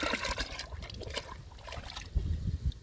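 Liquid poured into a mixture of aloe vera pieces soaked for plant use, a soft continuous trickle and splash close by, low and slightly rumbling, rising briefly near the end.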